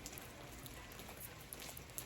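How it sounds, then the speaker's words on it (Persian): Steady rain falling outdoors in Damavand, a soft continuous hiss with scattered individual drop ticks, fairly faint and even throughout with no voices. "داره بارون میاد"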